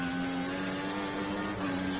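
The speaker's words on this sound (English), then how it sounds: "He's running full revs, maximum power" A racing car engine held at full revs during a 2014 Belgian Grand Prix race, a steady high-pitched drone with constant pitch and no breaks.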